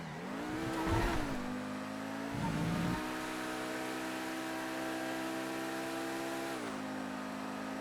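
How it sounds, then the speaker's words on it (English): A car in the GTA video game loses traction over a crest, its engine holding a steady high drone with sharp revving surges near the start and again near the end, loud and alone. "you can already hear here I'm losing traction over that crest"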